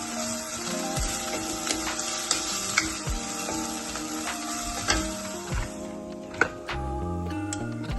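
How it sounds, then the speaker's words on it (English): Onions fry in a pan, browning with a steady close sizzle and crackle, broken by occasional scrapes and taps of a utensil stirring them. "First, I'm gonna fry the onion until they are little brown."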